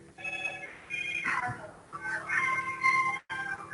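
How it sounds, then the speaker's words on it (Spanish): A mobile phone rings somewhere in the room during an online software architecture class, a fairly faint repeating electronic ringtone melody heard under a speaking voice. "están llamando acá a un celular de alguno"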